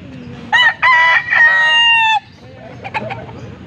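A nearby rooster at a poultry auction crows loudly in one long drawn-out call, followed by a few short clucks against a quiet outdoor background.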